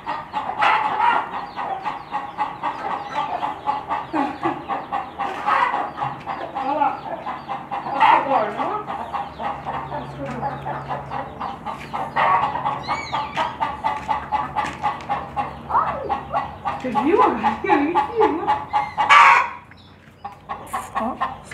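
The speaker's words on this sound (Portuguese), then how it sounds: "Olha o galão. Isso é pra acordar toda manhã." Chickens cluck steadily around a farm yard while a rooster crows loudly now and then, with an adult and someone talking over the birds throughout.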